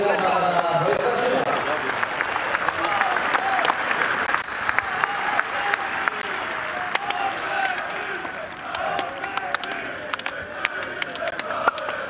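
A stadium crowd at an Ekstraklasa football match between Ruch Chorzów and Arka Gdynia applauds continuously with scattered cheers, a dense, sustained wash of clapping under an announcer's voice over the public address.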